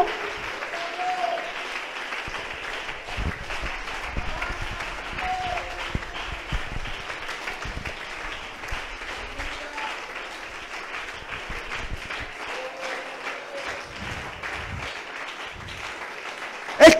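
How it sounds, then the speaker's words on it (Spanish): A church congregation applauding continuously, a dense even wash of clapping from a sizable crowd in a hall, sustained throughout with no pauses. "Si usted se quiere poner en pie un momentico y darle un aplauso"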